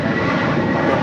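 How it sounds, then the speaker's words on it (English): An Airbus A350-1000 from London touches down on the south side at LAX with a loud, close, continuous jet engine roar filling the brief moment, with no voices. "A350-1000 coming in from London, touching down here on the south side"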